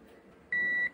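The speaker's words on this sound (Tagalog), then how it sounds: "Ko lang, buzzer sound." After a quiet moment, a single sharp electronic beep sounds loud and close, holding a steady pitch for about a third of a second.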